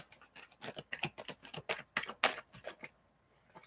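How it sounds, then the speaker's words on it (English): Tarot cards are shuffled up close in quick, irregular bursts of crisp flicks and taps that stop short near the end, fairly quiet with no talking. "Let me shuffle these cards, Nick, and see what they have for you."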